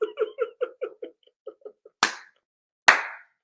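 A few people clap in a short, sparse burst that tapers off, followed by two sharp isolated slaps or claps; close and fairly loud, with no talking.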